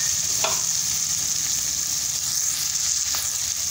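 Leafy vegetable filling for wheat-flour veg momos sautéing in a pan, a steady close sizzle and fry hiss running throughout with a couple of faint stirring scrapes, no voices.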